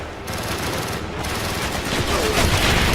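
Dense automatic gunfire rattles continuously in a Call of Duty: Black Ops match, loud and close, with voices shouting amid the shooting.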